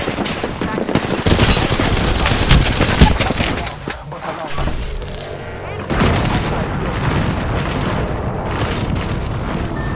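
Dense, sustained gunfire in an Apex Legends ranked match: rapid automatic bursts and booming shots overlap continuously, dip briefly and resume, loud and close, with game voice lines mixed in.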